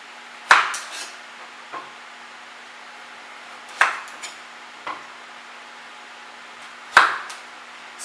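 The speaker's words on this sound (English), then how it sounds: "So we need to just slice around the edges." A knife trims the rounded edges off carrots on a cutting board, giving three sharp knocks spaced a few seconds apart, each followed by smaller taps, with near-silence between them.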